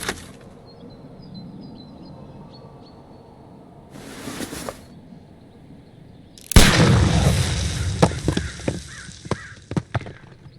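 A pistol shot sets off a dynamite package in a Sherlock Holmes: Crimes & Punishments game scene: a sudden loud broadband blast, followed by crackling debris and scattered sharp impacts, after quieter ambient noise and a brief burst.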